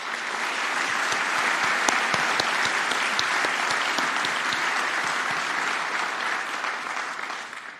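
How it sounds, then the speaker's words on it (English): An awards ceremony audience gives a big round of applause, a thick sustained roar of clapping with distinct sharp claps near the front, fading slightly toward the end. "let's give them a massive round of applause."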